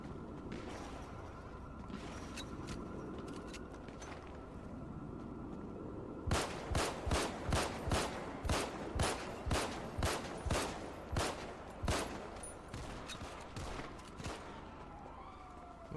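Video game gunfire during a roleplay session: a quieter stretch at first, then a rapid run of loud, sharp shots in quick succession over a low background rumble, with no clear talking.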